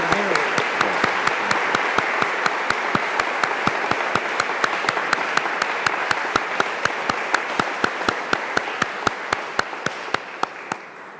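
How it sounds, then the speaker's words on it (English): Sustained applause from a church congregation at a Salesian ordination Mass, honoring the ordinands' families. Dense clapping fills the whole stretch at a steady level and eases off slightly toward the end, with no talking over it. "deserve are well-deserving of a round of applause from all of us."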